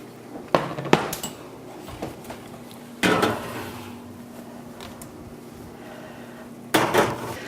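Metal cake pans for a dairy-free chocolate cake clank and scrape as they go into a home oven, with a few sharp knocks and two louder rattling bursts against a steady low hum.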